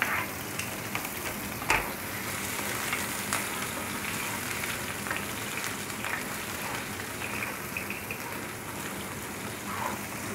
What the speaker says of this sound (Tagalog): Igisa na tayo ng sibuyas. Aray ko, namimitik.